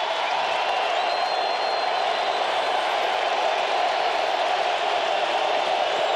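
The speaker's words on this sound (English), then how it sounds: "The crowd's really getting loud right now." Football stadium crowd at a 2006 Falcons vs Cowboys NFL game on a big third down, a steady loud roar of cheering and noise filling the whole stretch without a break.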